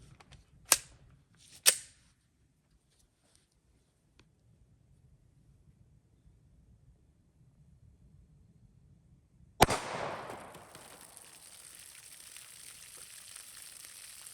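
.40 caliber handgun shots with law enforcement rounds fired into dense gelatin behind a clothing barrier, two sharp cracks early on, a long quiet stretch, then one loud shot that rings and decays slowly.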